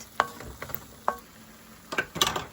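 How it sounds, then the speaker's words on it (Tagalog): Bottle gourd and shrimp stirred in a pan with a splash of fish sauce, giving a few scattered scraping and clinking strokes over a faint sizzle. "We are going to put little patis and then we stir a little bit."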